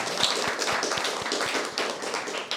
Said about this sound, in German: Ein Applaus dafür.